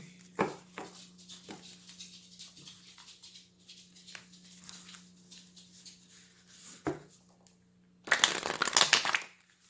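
Tarot cards handled and shuffled, with a few soft taps and slides early on, then a loud, dense riffling burst near the end over a steady low hum.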